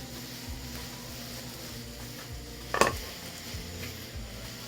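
Vegetables including pepper are tossed and left to sauté in a pan. A soft, steady, low sizzle plays throughout, broken once by a single sharp utensil clank.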